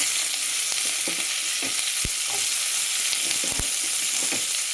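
Green chillies and onions sizzle steadily in hot oil, a continuous close frying hiss broken by a few sharp crackles and spits.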